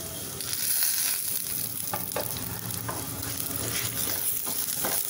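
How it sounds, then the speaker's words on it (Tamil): Masala of chillies and coriander roasting in a little oil over a medium flame for fish kulambu, a loud, continuous close sizzle with repeated scraping stirs of a spatula throughout. "மசாலா கருகாமல் நம்ம வறுக்கணும்"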